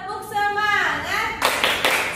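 Children's voices rise in a short sung chant, followed by a few sharp rhythmic handclaps in quick succession.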